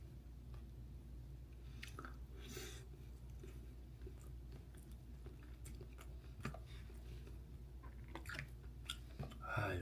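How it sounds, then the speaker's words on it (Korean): Meat and kimchi dumplings eaten by hand: soft, wet chewing and squishy bites, close and quiet, with occasional louder crunching bursts and low background hum. "역시 만두는 손으로 들고 먹어야 맛있는 것 같습니다."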